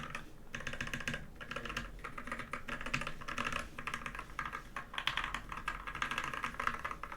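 Typing on a custom NK65 mechanical keyboard with a polycarbonate case, a quick, close run of crisp keystrokes in uneven bursts with occasional heavier spacebar-like thocks, alone without talk.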